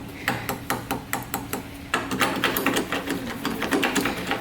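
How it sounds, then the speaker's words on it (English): A metal exterior door handle on a Ford Ranger pickup is worked over and over, giving a quick series of sharp, close clicks and clacks in a steady rhythm with no talking. "This is a metal handle, if you guys can hear that."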